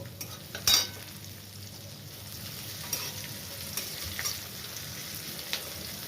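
Onion fries in a pan with a faint, low sizzle, a brief utensil clatter near the start and a few light stirring scrapes, no talk.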